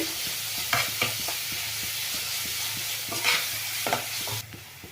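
Chopped onions with curry leaves frying for radish gojju: a close, steady sizzle with regular scraping stirs of a spoon across the pan, repeated every half second or so, without any voices.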